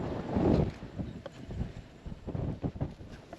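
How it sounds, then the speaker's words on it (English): Gusty wind buffets the microphone in uneven bursts, rumbling and fluttering close by. "It's very windy."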